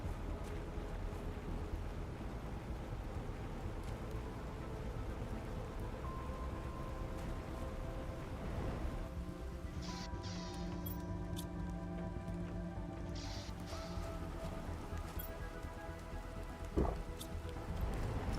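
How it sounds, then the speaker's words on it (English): Light rain patters steadily in The Planet Crafter, a continuous soft hiss with a few brighter tones and faint clicks layered over it, heard alone with no talking. "Getting a little bit of rain coming down, boys and girls."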